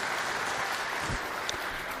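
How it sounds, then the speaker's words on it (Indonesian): A church congregation claps in a brief, fairly faint, even burst of applause with no voices over it. "Kita beri tepuk tangan."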